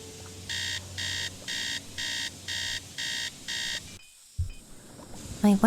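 Alarm clock in the Nancy Drew: Treasure in the Royal Tower game ringing in seven evenly spaced electronic beep bursts, loud and clear, followed by a short pause and faint background sounds.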